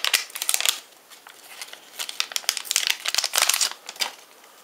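A trading card booster pack wrapper is torn and opened up close, giving busy, dry crinkling and crackling bursts that come and go in an irregular rhythm for several seconds, with no one speaking.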